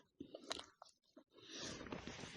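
Crunchy chewing of a young, not yet fully ripe berry picked in a village garden, several close, moist bites and squishy crunches in quick succession, then a longer, steadier munching stretch with no talk.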